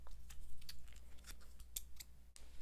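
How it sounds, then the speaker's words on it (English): New scissors trim hair at the back of the head during a close, quiet haircut, giving a series of soft crisp snips in an uneven rhythm. "So I got some scissors here. Yeah, these are new scissors."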